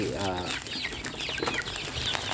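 Domestic backyard chickens on a cold, windy day give a short run of clucks up close, with someone speaking over them and rustling, wind-like noise in the background.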